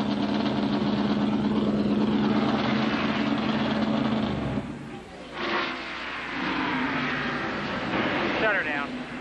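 A pack of stock cars in an ARCA race at Talladega roars past, a loud sustained engine drone that drops away midway, then quieter engine noise and a commentator talking.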